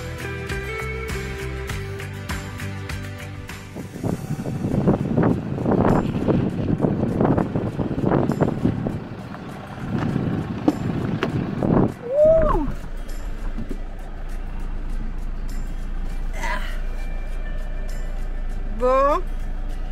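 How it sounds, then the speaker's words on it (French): Strong wind in Albania buffets the microphone in heavy low rumbling gusts, with people talking intermittently nearby and a brief whistling tone near the end. "il y a un vent de fou depuis qu'on est arrivé en Albanie"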